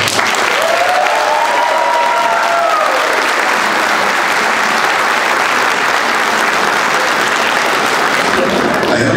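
Crowd applause after a campaign speech at a political event, broad steady clapping filling the room for several seconds, with a brief whistle-like tone and a few voices mixed in.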